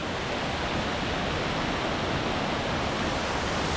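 A water mill (ghatta) in Sikles village, Kaski, with water rushing through it in a loud, dense, unbroken roar close by, no voices over it.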